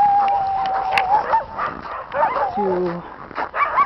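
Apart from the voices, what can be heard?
sled dogs barking in cages in Yakutsk, Siberia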